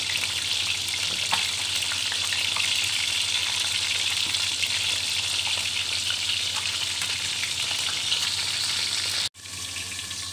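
Marinated milkfish (daing na bangus) fries in oil in a covered pan, giving a steady loud sizzle and crackle throughout with a brief break near the end.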